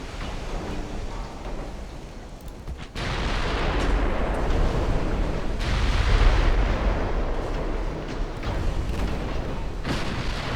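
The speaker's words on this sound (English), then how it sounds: "Furiously trying to shoot up the Cumberland" Naval guns pound the cruiser Cumberland in a 1930s-era naval battle game, a loud continuous barrage of heavy booms and rumbling blasts that thickens after a short quieter opening.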